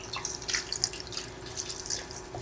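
One cup of vinegar poured into a cooking pot while making sinaing na tulingan, a braised tuna dish, makes a light, continuous splashing trickle at close range and moderate volume, with no talking.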